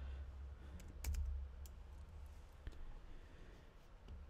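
Quiet typing on a computer keyboard, with scattered soft key clicks and a few sharper taps over a low background hum.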